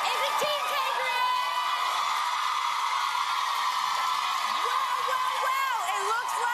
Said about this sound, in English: let's see what the audience thinks. By round of applause